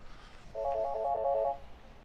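A telephone rings with a warbling electronic trill, one burst lasting about a second, moderately loud over a quiet room background.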